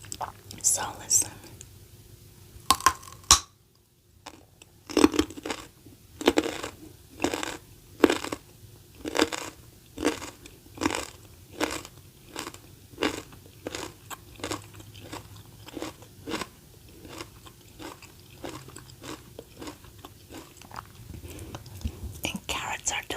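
Raw carrots from a vegetable garden crunch loudly near the mouth as they are bitten and chewed in a steady, repeated rhythm, with soft whispering mixed in.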